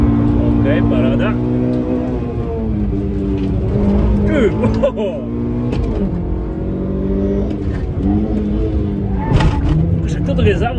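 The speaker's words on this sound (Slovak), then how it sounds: "Však toto je závodný stroj, počúvaj." A race car accelerates hard on an autoslalom course at Slovakiaring, engine rising and falling through gear changes, recorded onboard with people talking over it.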